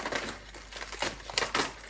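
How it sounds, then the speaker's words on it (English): Scissors cutting open a box of frozen sweet and sour chicken balls, heard as close crinkling and crackling of packaging in irregular bursts. "Easiest way to get in with them is some scissors."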